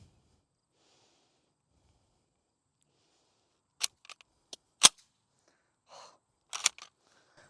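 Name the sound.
loading an en bloc clip of M2 ball into an M1 Garand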